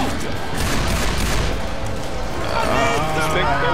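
Gunfire in the video game Left 4 Dead, rapid dense bursts of shots forming a loud continuous clatter, with voices talking over the shooting.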